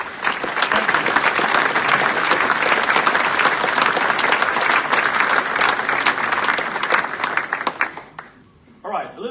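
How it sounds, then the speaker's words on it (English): Loud, dense applause fills a conference opening general session, holding strong for about eight seconds before quickly dying away to a few scattered claps and room noise. "So, round of applause for all of them."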